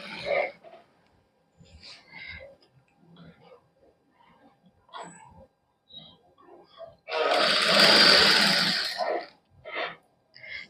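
A sewing machine stitches piping onto a kameez in one loud, close burst of about two seconds, with a person talking intermittently before and after.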